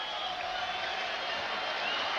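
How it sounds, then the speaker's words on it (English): Baseball stadium crowd noise during a 1994 Phillies vs Mets game with the bases loaded and two outs, a steady, dense roar of many voices holding level throughout. "And the crowd getting into it now with the bases loaded and 2 outs for Bonilla."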